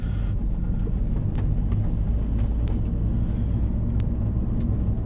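A MINI Cooper S R53 JCW GP1 with a 6-speed gearbox driving slowly up a very bumpy road, heard from inside as a steady low engine drone with scattered knocks and rattles from the rough surface.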